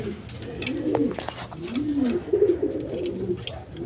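Caged pigeons cooing in repeated low, throaty rolling calls, close and moderately loud, with faint background chatter and occasional clicks.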